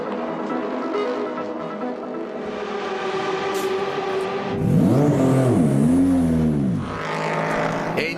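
The ASM Patron race car, a GTE-class endurance racer, pulls into the pits with a loud, steady engine drone, then a harsh rising and falling rev as it passes close by, fading into a distant hum.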